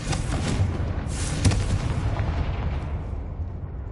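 A Confringo spell in Hogwarts Legacy lets off a fiery blast, a rumbling boom that swells, flares around the middle and then fades away.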